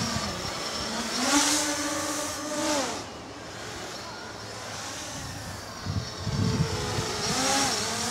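An XK X350 drone climbs outdoors under vertical thrust, its motors giving a loud, continuous buzzing whine that rises and falls in pitch, with a brief quieter dip midway and faint background noise.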